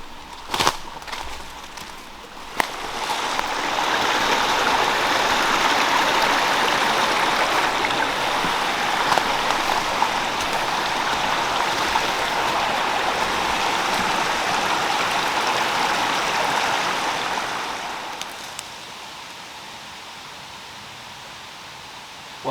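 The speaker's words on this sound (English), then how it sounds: "I've followed the river up quite a ways, and it's emptying out of some marshland over here." A river flowing out of marshland in a forest gives a steady, broad rushing wash that swells in, holds for about fifteen seconds, then eases back, heard fairly near with no voices.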